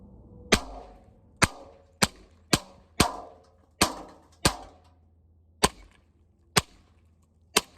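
Ten sharp .22 Long Rifle target-ammunition rifle shots ring out one at a time at irregular intervals of roughly half a second to a second, each a loud crisp crack with a short decay, no talking.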